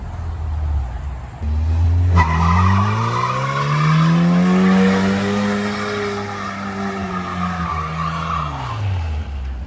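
Tires on a lowered 1982 Toyota Hilux pickup drift truck squeal in a long, loud, continuous howl that rises and sweeps in pitch over several seconds while the engine drones underneath.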